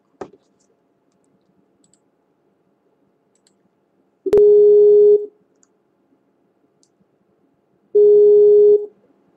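Phone ringback tone while calling someone back: two loud, steady beeps, each about a second long and spaced several seconds apart, with a faint click at the start and near-silence between.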